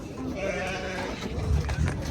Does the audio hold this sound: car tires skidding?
no